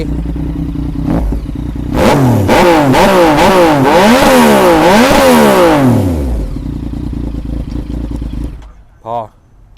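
A motorcycle with a new exhaust pipe revving hard several times in quick succession, loud and close, the engine note rising and falling in repeated bursts before settling back to idle, with people talking around it.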